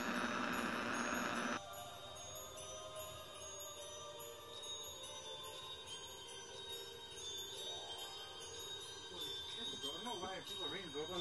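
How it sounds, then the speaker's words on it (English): A doorbell rings late at night inside a home, bright chiming tones sounding over a low indoor background, with faint voices also present. "somebody is ringing the doorbell"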